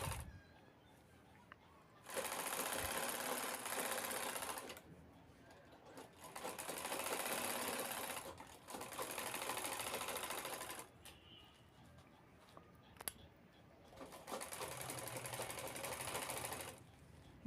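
A sewing machine stitches piping on a handbag in three close bursts of rapid, steady whirring, each a few seconds long, separated by quiet pauses with light handling sounds.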